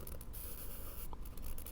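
A drawing pen nib scratches across paper while sketching water and waves, a close, steady dry rasp with brief pauses between strokes and no talking.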